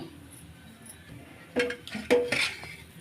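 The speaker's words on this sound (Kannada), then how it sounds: "ಚೆನ್ನಾಗಿ ಮ್ಯಾಶ್ ಮಾಡ್ಕೋಬೇಕು" Cooked dal and raw mango being mashed in a metal pan, a few sharp clinks and scrapes of a utensil against the pan, close and loud against a quiet kitchen background.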